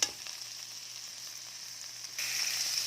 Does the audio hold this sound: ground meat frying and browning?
yes